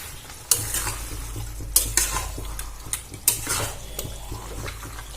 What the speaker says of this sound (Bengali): সমস্ত মাংসটা দিয়ে দিয়েছি এবার খুব ভালো করে কষিয়ে নেব